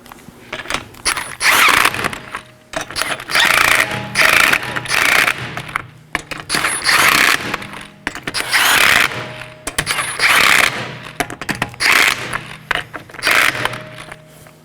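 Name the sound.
ratchet wrench with 19mm socket tightening sway bar link nuts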